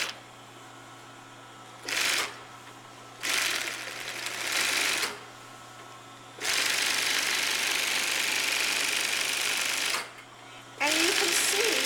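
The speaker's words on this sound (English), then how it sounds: "what this machine does is it overlocks and cuts the fabric as it goes" An overlock sewing machine stitches and trims fabric in loud, steady buzzing runs, starting and stopping several times with short pauses between bursts, close up.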